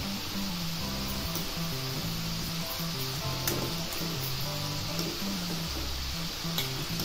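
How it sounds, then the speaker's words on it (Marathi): Khaja dough frying in oil over a low gas flame gives a soft, steady sizzle that runs underneath louder, rhythmic background music. "असं बारीक गॅसवरच असं भाजून घ्यायचं आहे"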